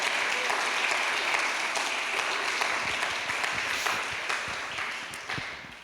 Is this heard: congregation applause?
yes